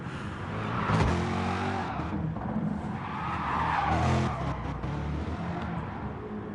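Race cars lap Interlagos in the GT Sport video game with loud, close engine revving that rises and falls through gear changes, along with screeching tire skids and cars passing by.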